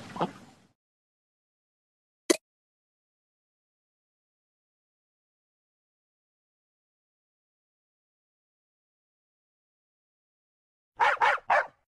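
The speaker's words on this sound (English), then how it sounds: "Dog." Two short, sharp dog barks in a farm-animal learning setting, one lone bark and then a quick cluster of two or three close together near the end, separated by long silence.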